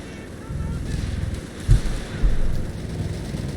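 An M42 gun fires on a Dingo in Company of Heroes 3, landing two heavy, close low thumps over a constant windy battlefield rumble.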